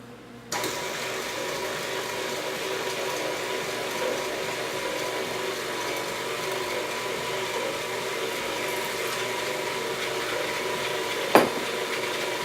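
An electric mixer churns Carbquik pancake batter with butter and water, giving a steady mechanical whirring drone for several seconds, with one sharp clack toward the end.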